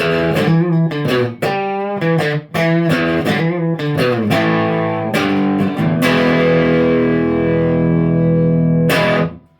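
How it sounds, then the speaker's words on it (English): Electric guitar played through an Artec QDD distortion driver on its overdrive setting, a series of crunchy driven chords and notes that ends on a long sustained ringing chord, loud and close. "And then up to the overdrive."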